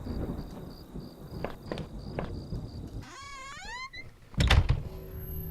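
A deep, loud thunder rumble before rain in the horror adventure game Home rolls in near the end, after quieter knocks and a brief chirp.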